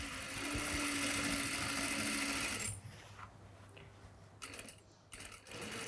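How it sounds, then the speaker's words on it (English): Sewing machine stitching a facing onto a denim tote bag, a steady close run for almost three seconds that then stops, leaving faint handling noises. "Vitaly is stitching the facing to the bag."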